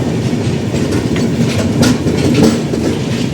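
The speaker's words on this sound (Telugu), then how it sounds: "మన ట్రైన్ అయితే విజిఎల్ ఝాన్సీ స్టేషన్ నుంచి అయితే మూవ్ అయిపోయింది." An Indian passenger train leaving Jhansi station rolls along the rails with a steady, loud rumble and rhythmic clickety-clack from the wheels, heard from inside the moving carriage without talk.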